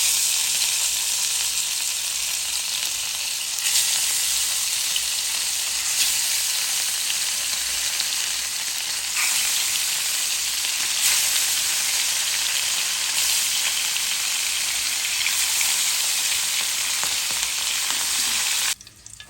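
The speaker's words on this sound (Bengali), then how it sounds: "এই যে হলুদ মরিচ মাখিয়ে নিচ্ছি, মাছটা ভেজে নিব।" Shol fish rubbed with turmeric and chili sizzles in hot oil, a strong continuous crackling spatter holding steady for the whole stretch before cutting off abruptly at the end.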